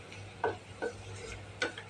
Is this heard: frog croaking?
no